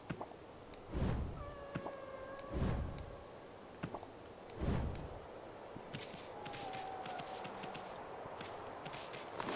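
Cats meowing in the video game Ōkami HD, several short meows ringing out among footsteps and thumps, with a few louder impacts and a faint background bed.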